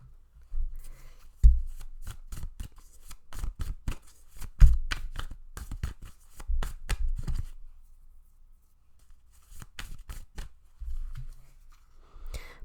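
Tarot cards riffled and shuffled in a run of crisp, rapid papery flicks and slaps, pausing briefly before a few more soft card snaps and draws near the end; close and fairly quiet, with no talking.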